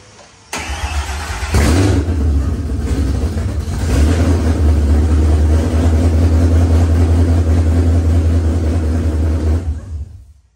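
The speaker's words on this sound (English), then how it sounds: "The first startup went like this." A Ford Coyote V8 swapped into a classic Mustang cranks and fires up at once on its first startup, then settles into a loud, steady, rumbling idle close by.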